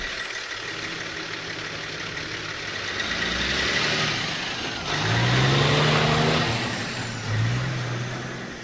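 A truck engine runs with a broad steady rumble that swells twice as the revs climb, fairly loud and near, with no talk.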